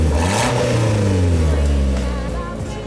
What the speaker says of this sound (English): You should rev it again, Billy.